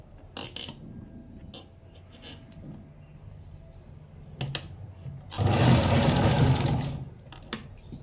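A sewing machine stitches a blouse seam in a short, loud whirring burst of about a second and a half, set among quieter clicks and fabric handling.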